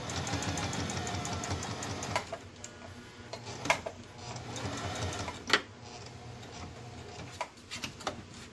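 A sewing machine stitching fabric for a face mask, running in a steady fast mechanical whir with occasional sharp ticks and clunks as it stops and restarts, close and without talk.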